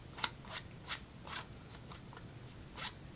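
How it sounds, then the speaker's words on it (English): An ink pad rubbed along the edge of a stamped birthday card, giving about seven short, soft scraping strokes at an uneven pace, close and quiet with no voices. "I can actually pick up my ink pad and just rub it along the edge"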